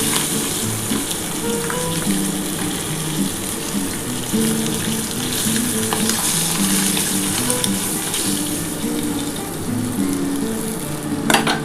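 Pomfret fish sizzle steadily in hot oil as they are lifted out, a dense close crackle running throughout, with faint utensil scrapes and a brief clink near the end.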